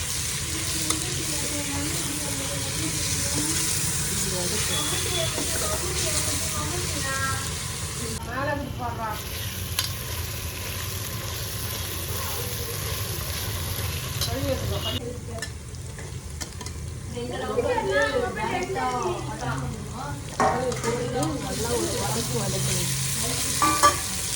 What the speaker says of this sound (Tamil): இதா மின்ட் லீவ்ஸ் போட்டுண்டு நல்லா அப்படியே வதக்கணும்